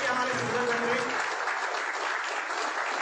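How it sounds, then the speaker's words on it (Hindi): A crowd at a company offers meeting breaks into loud, sustained clapping that fills the room, with a voice speaking over the start of the applause. "तो जोरदार तालियां इनके लिए"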